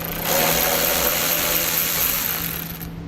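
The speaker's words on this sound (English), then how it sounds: "I'm going to be using an 8mm socket to remove it." An 8mm socket spins a bolt out of a 2015 Kia Soul with a power tool, giving a loud, steady mechanical whir close by that holds for about two and a half seconds before cutting off abruptly.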